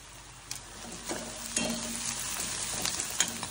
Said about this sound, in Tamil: கருவேப்பிலை நல்லா வதங்கட்டும்.